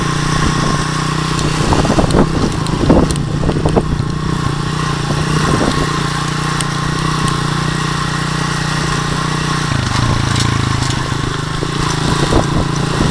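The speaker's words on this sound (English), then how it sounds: "So sometimes when you're touring the farm, you take a bike and go around." Motorcycle riding around a farm in Malawi, its mid-pitched engine droning steadily and close throughout, with throttle changes and wind rumble and no talking.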